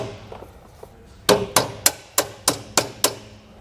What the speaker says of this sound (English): Go ahead and get that bolt out of there.